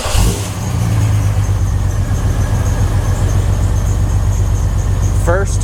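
A Jeep Wrangler's 4.2L engine with a Motorcraft 2150 carburetor idles steadily just after a first-crank start, a loud, even low rumble that continues throughout with a faint belt squeal above it.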